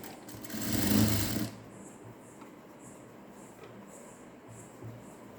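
A sewing machine stitches a blouse in a short loud burst that then stops, leaving a quiet room with faint mechanical ticks.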